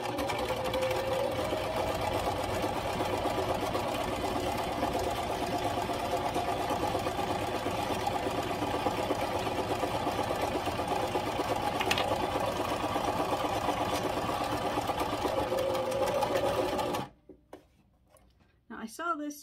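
Sewing machine stitching fabric for Halloween cushions, a steady fast mechanical whir running continuously for most of the clip before stopping abruptly near the end.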